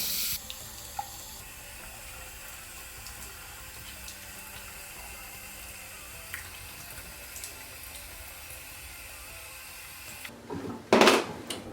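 Water runs steadily from a tap in the background while a face is washed, a soft continuous hiss, ending with a louder splash and clatter near the end.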